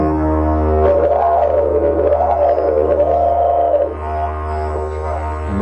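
A steady didgeridoo drone carries wavering, warbling overtones that mimic a brolga crane's call, then settles back to the plain drone.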